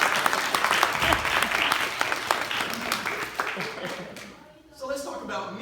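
An audience at an anniversary keynote bursts into loud sustained applause and cheering that fades near the end before a fresh swell, with voices mixed in.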